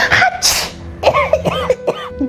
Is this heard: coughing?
yes